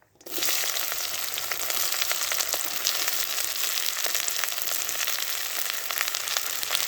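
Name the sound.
chopped onion and whole garam masala frying in mustard oil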